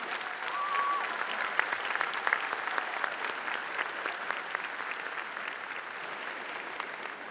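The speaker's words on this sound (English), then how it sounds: "I think we should give them a round of applause." A convocation audience applauds the graduates' supporters. Dense, sustained clapping rises early and holds steady, with occasional sharper individual claps standing out.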